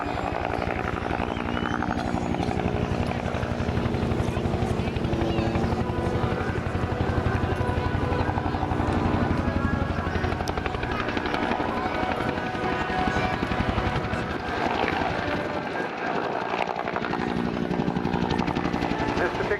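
A Bell UH-1 Iroquois Huey helicopter, built in 1972 and ex-US Army, flies at an air show, its loud, steady rotor thump and turbine roar filling the whole stretch without letup.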